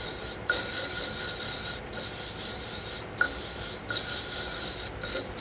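Steady scrubbing of a toothbrush rubbing wax into wood threads, a continuous raspy brushing broken by a few short pauses.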